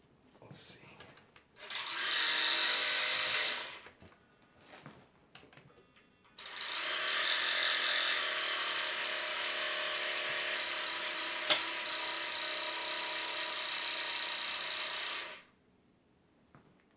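A toy dart blaster cannon's electric motor whirs in a short burst, stops amid clicks and handling noise, then spins up again for a long steady hum before cutting off.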